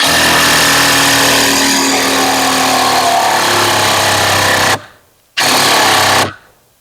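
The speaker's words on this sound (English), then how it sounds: "let's try driving a construction screw. Now this is my 20-volt system." A DeWalt 20-volt impact driver drives a construction screw with a loud, continuous rattling hammer close by, cuts out briefly, then bursts again before stopping.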